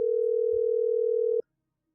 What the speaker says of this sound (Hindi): रयो ने अपना मोबाइल निकाला और किसी को फोन करने लगा।